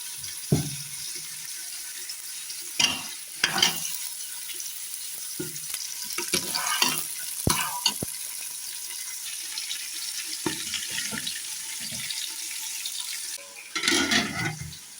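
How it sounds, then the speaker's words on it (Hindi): A pan sizzles steadily with tomatoes frying for desi chicken pulao, interrupted by occasional clinks and stirring scrapes; no one speaks. "टमाटर को गलने के लिए ढक्कन रख दी और ये बस फ्राई होते जा रहे हैं"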